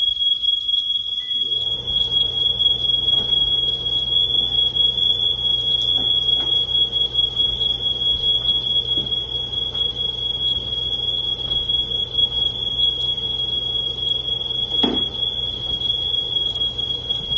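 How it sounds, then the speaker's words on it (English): A piercing, continuous high-pitched smoke alarm tone starts after a moment and sounds without pause, loud and close, with faint background kitchen clatter. "I'm making sure the smoke alarms work."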